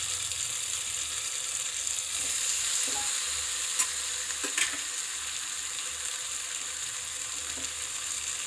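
Coated bread slices fry in ghee in a kadhai, giving a steady bright hiss of sizzling fat that runs evenly throughout, with a couple of faint utensil taps.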